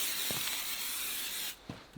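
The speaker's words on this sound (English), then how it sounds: "See, and then he's still gonna spray me." Tick repellent spray hisses steadily onto a person outdoors, a continuous close aerosol spray lasting about a second and a half, then stopping, with faint clicks of the nozzle.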